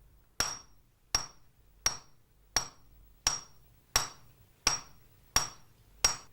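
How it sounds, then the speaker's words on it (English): A swordsmith hammers a plain iron rod down to a sharp point, nine sharp metallic strikes ringing out at an even, unhurried pace, each close and distinct with a brief ringing decay. "First, he hammers a plain iron rod down to a sharp point."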